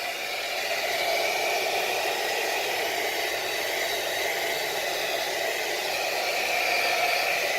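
A heat gun blows a steady, loud, even hiss of hot air while warming the adhesive pads of a door sill scuff plate on a 2018 Honda Accord, with no pauses and no talking.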